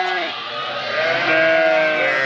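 A sheep from a flock gives one loud, sustained, wavering bleat close by, lasting the whole moment.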